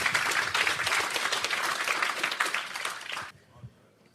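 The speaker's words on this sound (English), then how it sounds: "let's give another round of applause to Ben" Dense applause from a conference audience fills the room for about three seconds, then quickly thins out and fades to near silence with a few scattered final claps.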